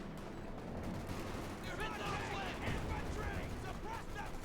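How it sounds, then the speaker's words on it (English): Artillery bombardment pounding a base in Company of Heroes 2, a dense rumble of distant blasts and crackling gunfire running continuously throughout. "A bit of bombardment of the base there."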